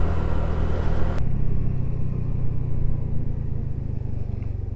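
A Honda Navi motorcycle engine runs with a steady, loud, low rumble as the ride begins, with a brief higher hiss dropping away early on.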